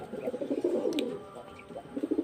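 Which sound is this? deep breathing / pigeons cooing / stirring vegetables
pigeons cooing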